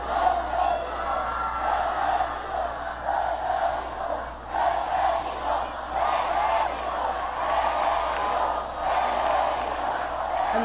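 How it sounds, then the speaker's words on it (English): A large crowd at a welcome ceremony for Pope Benedict XVI in Mexico chants "Benedicto" in a continuous, rhythmic roar that rises and falls, with people talking underneath. "And the crowd starts chanting"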